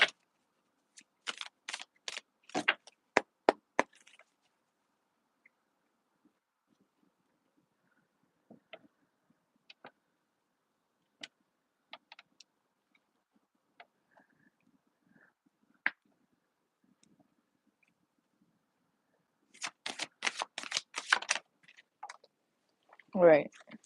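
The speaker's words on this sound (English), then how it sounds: "Hold on, I want to do one more shuffle as well." A deck of oracle cards shuffled by hand close up, with two short bursts of rapid riffling and clicking separated by a long, nearly silent stretch of faint handling.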